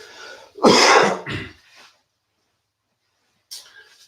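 A single loud, close cough or throat clear followed by a softer trailing cough, then silence and a brief faint breath at the end.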